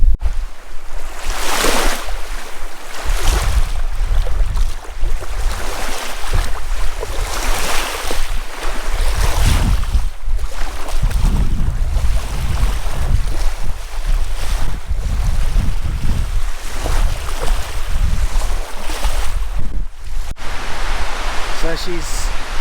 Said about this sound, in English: A little bit of a wind blowing, a few waves in the lake.